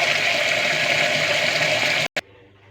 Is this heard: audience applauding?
no